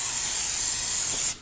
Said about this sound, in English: Using some brake parts cleaner, go ahead and spray the inside.